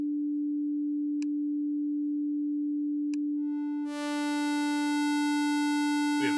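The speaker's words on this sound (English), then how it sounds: "It's pulse wave, sawtooth wave, and a triangle wave close to a sine wave." A steady pure analog synthesizer oscillator tone, a triangle wave close to a sine, hums alone, joined by brief clicks, then a bright buzzy harmonic-rich sawtooth or pulse waveform switches in and sustains loudly.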